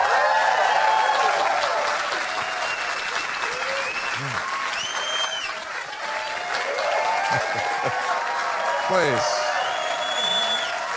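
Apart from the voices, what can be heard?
audience applause at comedy show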